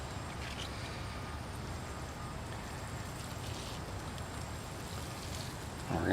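Water pours steadily from a watering can onto a ficus bonsai planted in sand, a continuous close splashing wash that swells slightly at the end.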